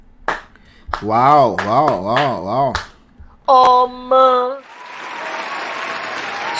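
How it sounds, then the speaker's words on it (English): An audience claps and applauds for a lawyer in short bursts, broken up by voices, a brief tone and a wash of noise at the end. "First of all, clap for lawyer."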